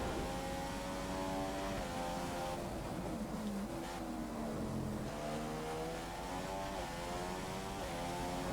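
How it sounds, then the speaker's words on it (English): A propeller airplane passes overhead during the F1 2015 racing game, a steady droning engine tone with shifting pitch heard alongside the race car's engine, continuous and moderately loud throughout. "Oh, see the plane above us."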